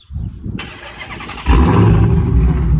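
A Dodge Challenger Hellcat Redeye engine with catless mid pipes cranks and catches at about the midpoint, then settles into a loud, steady rumble close by.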